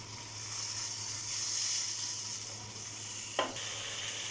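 Steady sizzling of garlic-ginger paste frying in a hot pan, with a soft stirring scrape near the end and no talking.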